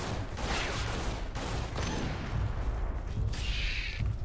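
Sustained heavy gunfire in the dinosaur shooter game Primal Carnage: Extinction, a dense continuous barrage of overlapping shots with no letup, loud and close.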